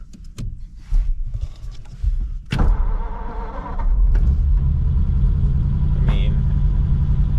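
A few clicks and clunks, then a 1940 Mercury engine cranks and catches, settling into a steady, loud idle up close.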